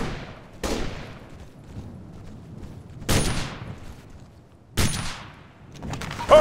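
Gunfire in the video game OFDR as enemy soldiers are engaged: three loud, sharp single shots spaced a couple of seconds apart, each with a short echoing tail over quiet background.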